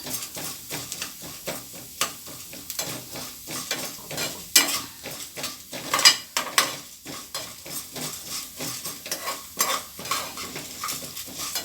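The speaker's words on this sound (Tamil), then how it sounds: "மீடியமாக வச்சுக்கிட்டு அப்படியே கொஞ்சம் லைட்டாக நல்லா செவக்க வறுத்து எடுத்துக்கிறோம்" Urad dal is roasted in a pan over medium heat for a spicy chutney. A spoon scrapes and stirs in an irregular rhythm of close clinks and rustles, with a faint sizzle underneath and no talking.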